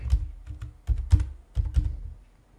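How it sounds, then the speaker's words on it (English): Computer keys tapped in a short burst of distinct, fairly close clicks with a thunk or two, as a password is entered on a Linux machine. "Just hit enter on your computer keyboard, type your computer password,"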